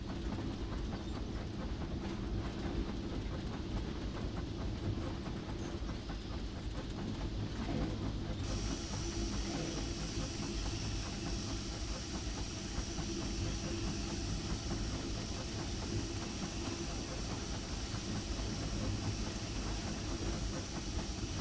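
A simulated steam locomotive on the Disneyland Railroad in a video game chugs at track speed with the Johnson bar hooked up, giving a dense, continuous rumble and rhythmic chuffing that keeps a constant loudness throughout.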